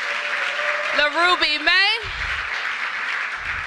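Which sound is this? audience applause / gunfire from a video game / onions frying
audience applause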